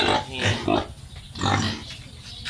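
A native pig grunting up close in a few rough, throaty bursts, loud and clear, with short pauses between grunts.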